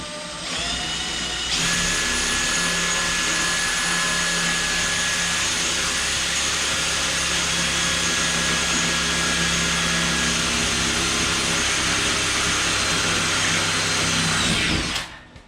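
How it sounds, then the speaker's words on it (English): A power drill boring holes through the sides of a part during vehicle safety modifications, one continuous loud whine that spins up quickly, holds steady for about thirteen seconds, then stops abruptly. "put the clips back in and drill some holes just in the sides there"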